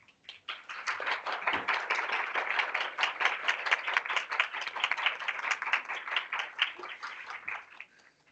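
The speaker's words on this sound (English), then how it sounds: "So please, principals, can you stand and give them a round of applause to start?" Applause at a board of education meeting, as principals stand and clap together in a dense, steady round that runs for about eight seconds at moderate loudness before tapering off.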